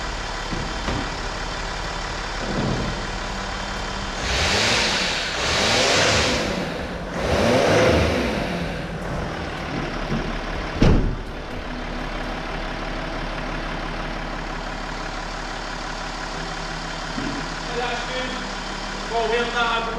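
A Range Rover Sport engine with an EGR valve stuck closed revs several times through the throttle pedal, rising and falling in swells over a steady idle, with people talking nearby.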